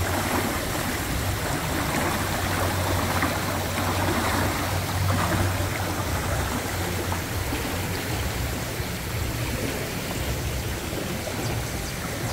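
Crank-operated water guns at Legoland in Orlando, Florida, fired from a boat ride toward onlookers, producing a steady, dense hiss of spraying and splashing water that runs unbroken throughout, with no talking.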